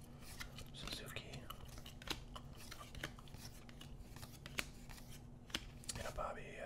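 2022 Topps Update and Chrome baseball cards are handled and shuffled into sleeve piles close up, giving soft crisp taps and riffling clicks scattered throughout under quiet whispering.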